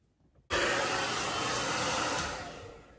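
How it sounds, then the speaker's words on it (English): An Adagio blow dryer switches on abruptly after a quiet moment and blows hot air in a loud, steady high-pitched whoosh with a whining tone, tapering slightly near the end. "the blow dryer itself is not really hot, but the air that it blows is really hot"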